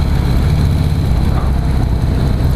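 A 2016 Harley-Davidson CVO Pro Street Breakout motorcycle engine rumbles steadily and loudly while riding, a dense low growl lugging in too high a gear, with continuous wind and road noise and no pauses.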